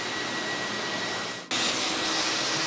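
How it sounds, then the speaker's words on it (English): A loud vacuum roars steadily, briefly dips, then surges back even stronger as it keeps drawing in water while cleaning chewing gum off a floor at Brixton Academy. "Perfect demo of the vacuum in action."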